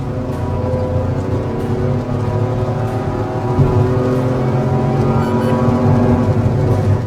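A Citroen Basalt's small engine revs steadily and loudly, its harmonic drone holding close and continuous with a slight rise partway through, no voices.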